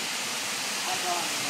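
A waterfall at Camp Payapa in Laguna, Philippines, at night: a steady, broad rushing roar of falling water with no break, moderately loud and close.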